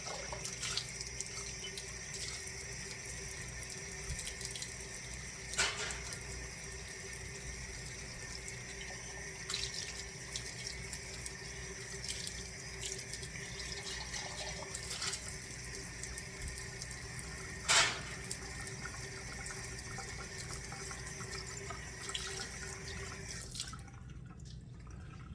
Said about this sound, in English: I'm washing actually 7-pint jars.